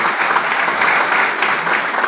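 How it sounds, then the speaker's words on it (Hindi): An audience at a seminar claps loudly and steadily in applause for farmers, with continuous dense clapping throughout and no talk. "एक बार जोरदार तालियां सारे किसान भाइयों के लिए।"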